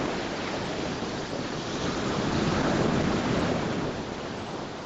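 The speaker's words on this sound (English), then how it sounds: "Do the waves sound okay?" Ocean waves washing onto a beach at sunset, a steady loud roar of surf with some wind noise on the microphone, swelling slightly in the middle and continuing without pause.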